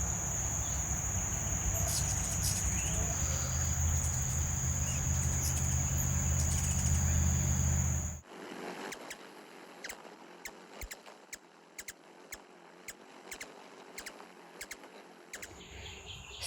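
Ruby-throated hummingbirds chitter at feeders outdoors, fast little high-pitched ticks and squeaks scattered irregularly, fairly faint against a steady insect buzz and background hiss, with a louder humming drone in the first half.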